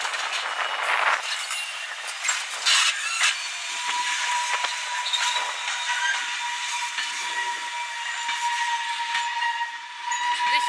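A passenger train, DW 66740 running from Fort William, approaches a level crossing at Bedrington, with a sustained loud hissing, steam-like roar and a steady whistle-like tone throughout.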